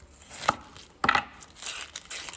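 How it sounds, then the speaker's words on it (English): Kitchen knife dicing an onion on a cutting board while preparing chicken soup: two sharp chopping strikes about half a second apart, then lighter scraping and tapping, close and clear with no talk. "now I'm going to dice my onion"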